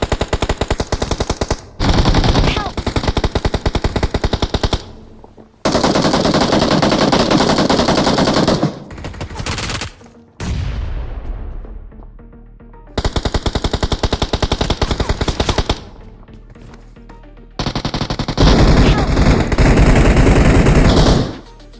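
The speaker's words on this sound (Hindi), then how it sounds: "ये पोरे ऊपर से बहुत जोर से गोली चला रहे होते" Video game gunfire in several long, loud bursts of rapid automatic fire, separated by short silences and one trailing echo, with no talking.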